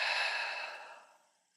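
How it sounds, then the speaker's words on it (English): A single long, breathy exhale during a guided breathing exercise, close and soft, fading steadily over about a second and a half with no talking. "Big exhale out."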